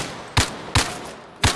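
Gunfire in the VR shooter Zero Caliber: three loud, sharp single shots spaced unevenly, each with a short decaying tail, no talk.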